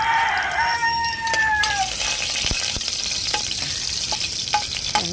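Food frying in a pan with a steady sizzle and occasional stirring clatter, while a rooster crows loudly in the first two seconds and other fowl call nearby.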